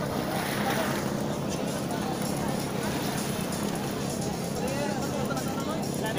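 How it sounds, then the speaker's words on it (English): Motorized boats of 16 to 20 horsepower race on the water at a fisherfolk festival, heard as a broad, steady wash of engine and water noise, fairly distant, with wind and a voice talking over it. "next category motorized 16 to 20 horsepower racers Jimmy Narciso and Kyle Fondo"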